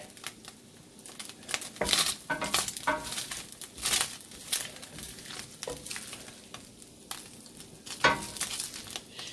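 Ground beef browning in an enameled cast iron pan for sloppy joes, with a steady sizzle broken by scraping and stirring strokes that come in uneven bursts.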